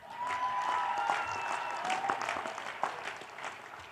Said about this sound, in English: Can we give a big round of applause to the people who funded this entire operation?